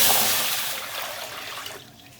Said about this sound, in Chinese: 锅里加水